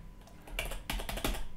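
Fingers typing a command on a computer keyboard: a quick close run of key clicks and taps, clustered in short bursts.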